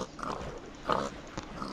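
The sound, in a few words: pig oinking in video game Minecraft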